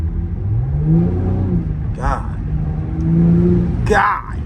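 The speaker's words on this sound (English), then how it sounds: "I hear that engine so much like more clear with the windows cracked" A Cadillac CT5-V engine drones and revs while driving at night with the windows cracked, a steady low rumble swelling in loudness, as someone talks over it.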